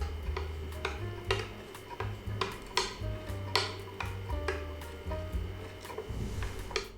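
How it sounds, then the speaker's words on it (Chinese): Soy milk cream mixture with butter being stirred in a pot over low heat, a utensil tapping and scraping against the pot in a quick irregular rhythm of sharp clinks, close and moderately quiet, with a low hum beneath. "加热的话要不断的搅拌"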